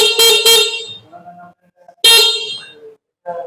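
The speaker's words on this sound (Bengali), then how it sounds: "দুই পাশে দুইটি হর্নের সুইচ রয়েছে যার জন্য আপনি সুন্দরভাবে হর্ন চালাতে পারবেন" Horn of an electric sports bike sounded in two loud, close bursts, a short double beep followed after a pause by a longer blast, with faint background sounds between them.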